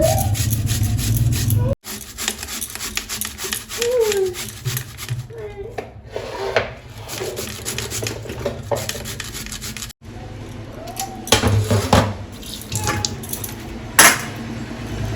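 Potatoes rubbed against a hand grater in a home kitchen, a repeated scraping rasp in uneven strokes with short pauses and occasional clinks, while someone speaks now and then.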